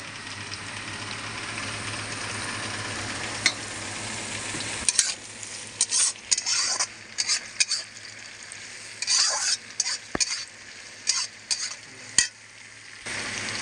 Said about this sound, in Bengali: পেঁয়াজ কুচিটা দিয়ে পেঁয়াজটা আমি লাল লাল করে একটু ভেজে নেব।